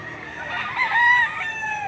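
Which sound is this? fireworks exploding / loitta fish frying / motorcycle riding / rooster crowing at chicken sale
rooster crowing at chicken sale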